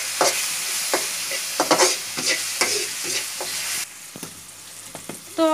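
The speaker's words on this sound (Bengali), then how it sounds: "তো আমার পেঁয়াজটা তো একটু বাজিয়া নিলাম" Onions frying in a pan for a Bengali-style home-cooked meal, with a steady sizzle broken by repeated scraping, stirring strokes of a spatula at a regular rhythm, close and clear, with no one talking.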